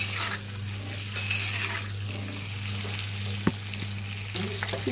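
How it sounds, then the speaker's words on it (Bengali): Eggs coated with turmeric being turned in a frying pan: a steady sizzle under repeated stirring scrapes and a few sharp utensil clinks against the pan, close and clear, with no speech. "ডিমগুলো হলুদ দেওয়ার পরে এইভাবে একটু নাড়াচাড়া করতে হবে।"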